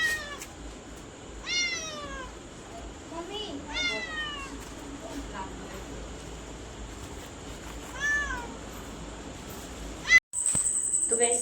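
A domestic cat meows three times in drawn-out, rising-and-falling calls spaced a few seconds apart, close and fairly clear over a low background hiss, with a brief sharp bump near the end.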